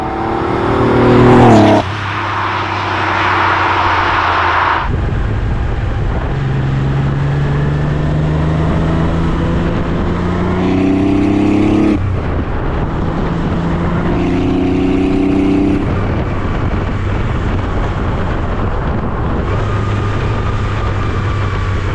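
A 1993 Porsche 964 911 Turbo 3.6 engine roars and revs through several gear changes, turbo spooling up, pitch climbing and dropping, loud and close with a steady driving rumble.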